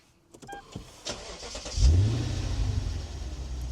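A 2009 Lexus IS-F V8 being started: a few soft clicks as the ignition is switched on, then the engine cranks and catches with a loud burst and settles into a strong, steady idle close by.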